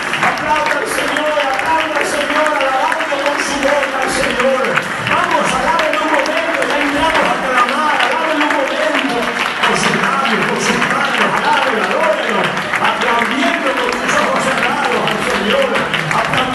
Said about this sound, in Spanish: Regálale aplausos al Señor